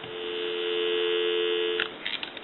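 A steady telephone dial tone from a 3-slot payphone hums continuously and evenly for about two seconds, then cuts off into brief clicks and faint line noise.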